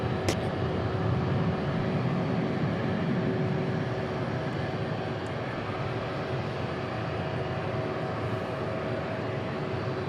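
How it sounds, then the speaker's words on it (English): A heavy jet aircraft on flight 793 to Louisville at DFW International Airport at night, a faint, steady engine drone with a faint whine running evenly throughout, no voices. "This is flight 793 to Louisville."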